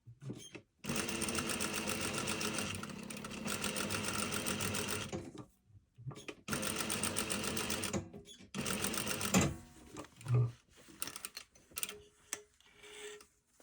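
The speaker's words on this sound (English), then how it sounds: "And stitch with a 1/2 inch seam allowance." Sewing machine stitching a slot seam at a half-inch allowance, whirring fast in three long close bursts with short stops, followed by scattered clicks and handling noises.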